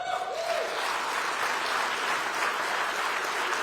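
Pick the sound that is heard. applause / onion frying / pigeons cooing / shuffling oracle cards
applause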